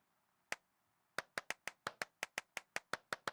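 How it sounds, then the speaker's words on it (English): Hand claps ring out inside a large abandoned church, one sharp clap followed after a pause by a steady run of about a dozen evenly spaced claps, each trailing a short reverberant echo. "Well, I'm just gonna keep clapping"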